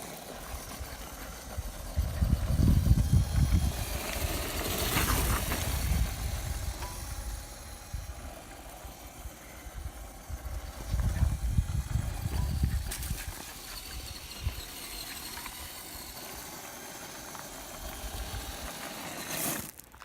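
A Redcat Everest Gen 7 RC rock crawler drives with a whirring electric motor and gear noise that rises in two louder bursts and then settles to a steadier hum.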